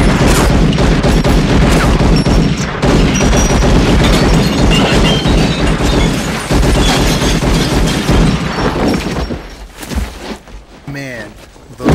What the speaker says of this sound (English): those gunfights